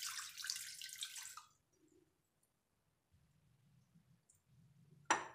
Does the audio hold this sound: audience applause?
no